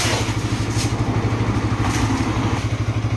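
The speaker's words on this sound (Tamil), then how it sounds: "ஸோ இப்போ வந்து வண்டி ஸ்டார்ட்டில் தான் இருக்குது அப்படிங்கிறவங்க பாருங்க, அந்த உங்களுக்கு சவுண்டு கரெக்டாக கேட்கும்னு நினைக்கிறேன்" A modified Bajaj RS 200 motorcycle engine idles close by, a loud, steady, even rumble with a regular pulsing beat throughout.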